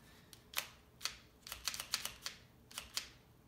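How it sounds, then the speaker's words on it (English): Wooden UGears Wolf-01 model handgun mechanism clacking: about a dozen sharp, dry clicks in irregular bunches, close and fairly quiet, with no voices. "And it says you should hear a clacking sound."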